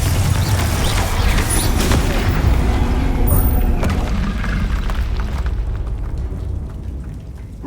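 Confringo blasting spell going off in Hogwarts Legacy during combat: dense, loud booming bursts with crackling debris, fading into a quieter rumble.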